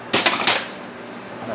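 A crankshaft bearing being tapped into a Husqvarna 254xp chainsaw case gives a few close, sharp metallic knocks in quick succession, then a quiet ring-down with no talk.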